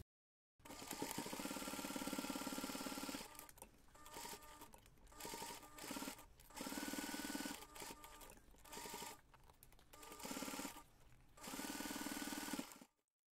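A sewing machine bastes one long seam along a crossbody bag panel, sounding in repeated bursts of steady rapid stitching broken by short pauses, close up and without voices.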